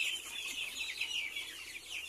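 Free-range native chickens cluck and chirp in a dense, steady flock chatter that runs without a break, fairly close and even in loudness, with no voices over it.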